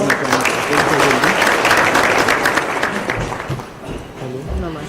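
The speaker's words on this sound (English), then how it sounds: "Please welcome her with a big round of applause." Round of applause from an audience at an investment and tourism event as a speaker is welcomed, loud dense clapping that fades toward the end as talking begins.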